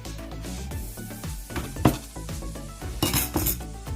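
A metal lid set down over a cooking pot while making egg curry, giving a few light clinks and one sharper clatter of metal and glass near the middle, then a brighter rattle near the end, all close by.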